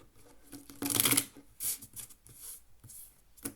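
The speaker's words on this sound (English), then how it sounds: "They already are shuffled, but I'll do it again," Close riffle shuffles of playing cards, a long flutter followed by several shorter snapping bursts, fairly quiet with no talking.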